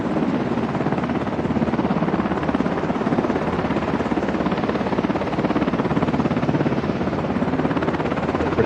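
Helicopters flying over the southern border near Eagle Pass, Texas, give a continuous loud rotor thrum with a steady rapid chop and heavy low rumble, no voices.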